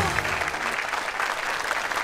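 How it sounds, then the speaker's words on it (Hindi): A studio audience at a comedy show claps steadily throughout, a dense, even burst of applause at moderate loudness with no break. "जोरदार तालियां"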